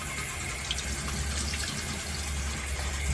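Water running steadily while a face is rinsed off: a constant, close gush of flowing tap water with no pauses.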